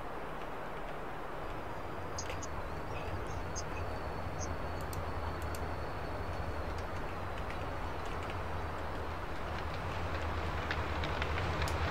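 A train in the Roblox video game runs along its track with a steady, even rumble and rattle, constant and fairly quiet throughout.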